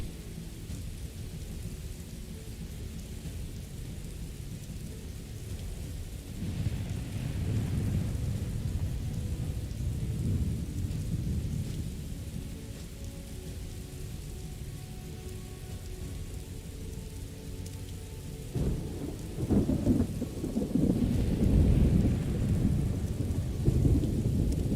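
Heavy rain pours steadily in the video game Morrowind, a dense hiss of drops on surfaces, while deep thunder rumbles roll in around the middle and again, louder and closer, near the end.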